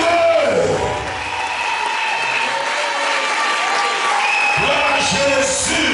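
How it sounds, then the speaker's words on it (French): A church congregation applauds and cheers to acclaim the Lord, sustained loud clapping with whoops and crowd voices throughout, a preacher's voice mixed in. "S'il te plaît, acclame-le. Lève-toi et acclame-le."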